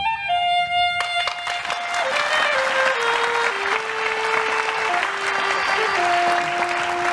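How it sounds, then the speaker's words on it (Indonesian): An audience breaks into loud, sustained applause after a saxophone performance, while a few lingering held tones ring out over the dense clapping. "Berikan tepuk tangan sekali lagi untuk Hidayat Nur Wahid, Yeni Wahid"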